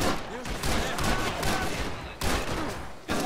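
Gunfire in the video game Max Payne 3, dense bursts of shots crackling loudly and continuously with brief dips, with faint voice-like sounds mixed in.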